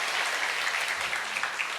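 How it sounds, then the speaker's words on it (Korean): A church congregation gives steady applause to welcome a newly joined couple. The clapping is full and sustained, with no talk over it. "박수로 환영하겠습니다"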